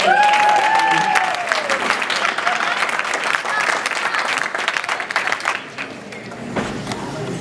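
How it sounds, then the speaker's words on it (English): Wedding guests at a reception break into a sustained round of dense, lively applause that carries on evenly before tapering slightly, with a voice faintly audible at the start. "Can we give Sammy another round of applause for such a great show?"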